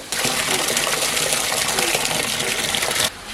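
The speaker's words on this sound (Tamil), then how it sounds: "கீரை வந்து நல்லா உருவிட்டோம் கொஞ்சம் நல்லா அலசி எடுத்துக்கலாம்" Tap water runs steadily as greens and fish are rinsed in a home kitchen, a continuous close splashing gush that stops abruptly near the end.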